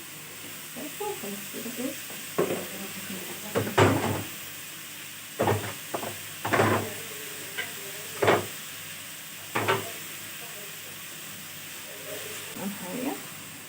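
Tomato paste and oil fry with minced meat in a pan, giving a soft steady sizzle beneath repeated scraping stirs and clinks of a spoon, with a few brief spoken words.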